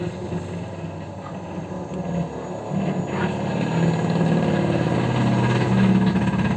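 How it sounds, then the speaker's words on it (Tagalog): A noisy tora-tora motorized cart engine passes nearby, its steady mid-pitched rumble and vibration growing gradually louder over several seconds. "Napakaingay ng tora-tora."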